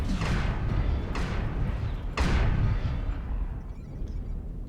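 Three heavy booming artillery blasts from the MechWarrior Online game, spaced about a second apart and each trailing off into a rumbling din, followed by a quieter rumble.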